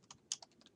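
A few light taps on a computer keyboard, ending in a slightly firmer key press like the Enter key, quiet and close with no speech.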